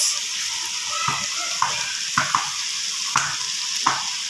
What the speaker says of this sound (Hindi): दूसरी साइड पे हमारा ये फ्राई हो रहा है जी